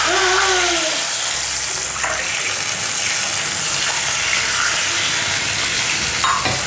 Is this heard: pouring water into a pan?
yes